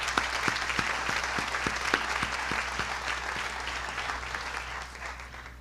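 Audience at a 2021 University of Holy Cross commencement ceremony applauds graduates, sustained clapping from a large crowd in a hall with a few louder individual claps standing out.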